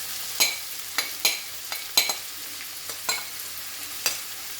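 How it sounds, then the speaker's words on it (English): Chopped onions and pepper frying in a pan over very high heat, a constant close sizzle with a series of scraping stirs at an uneven rhythm, and no voices. "I've got the pan on really high heat. Now I'm going to add my onions and pepper that I've cut up."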